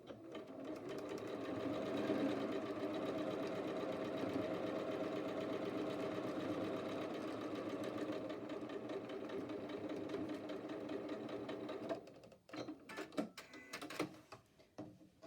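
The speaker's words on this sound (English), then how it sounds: "And now I'm going to stitch that sashing to this side." A sewing machine stitches sashing onto a quilt block, a close, steady whirring hum for about twelve seconds before stopping, followed by a few soft handling clicks and rustles.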